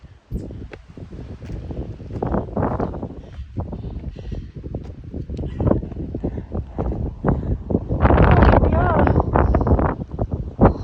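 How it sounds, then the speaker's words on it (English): Strong wind buffets the microphone on a rocky mountain summit in Maine above a pond, a steady roaring rush with louder gusts toward the end, and a person talks through it. "I'm gonna get out of this wind and keep going."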